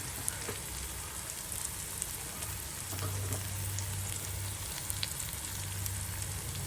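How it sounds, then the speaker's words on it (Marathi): Onion and tomato sautéing in a pan give a steady, close sizzle with crackling spits throughout, a moderate frying hiss without any talking. "कांदा टोमॅटो चांगला परतून झाला आहे।"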